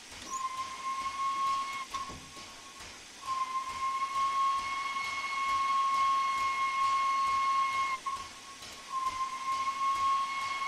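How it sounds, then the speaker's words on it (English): The whistle of the Flying Scotsman steam locomotive in Train Sim World 4 sounds in long, steady, piercing blasts, with brief breaks between them, over a continuous background hiss of steam. "Sorry, I just had to do the whistle."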